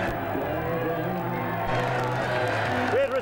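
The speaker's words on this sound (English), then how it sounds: "great crowd here from Swinford tonight" A boxing crowd in Ireland cheers and whoops for a boxer from Swinford, with a broad roar of voices and some scattered clapping heard under a ringside announcer talking.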